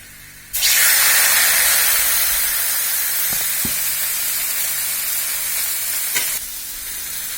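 Loud, steady sizzling and hissing as water is poured into onions frying in a pan bursts in suddenly, holds for several seconds with a couple of soft clinks, then drops away.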